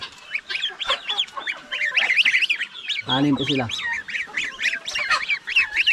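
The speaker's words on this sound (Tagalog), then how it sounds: "Yung mga sisiw ng ating gansa." Close-up of farm geese with six goslings: steady shrill peeping from the young birds runs throughout, a deeper goose honk cuts in for a moment around the middle, and someone speaks briefly.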